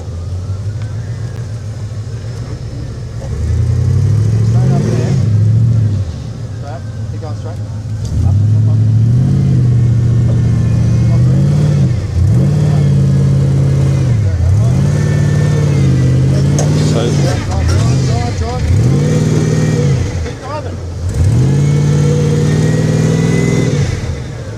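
Off-road vehicle engine revving hard in repeated surges while crawling over rocks at a Cliffhanger 2025 Mickey Thompson Rocks trail run, loud and close with rising and falling throttle bursts, with people talking over it.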